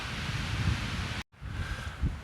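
Gusty wind blows steadily on the open slopes of Schober mountain in Austria, a broad rushing roar close to the microphone that cuts out abruptly for a split second, then returns in buffeting waves.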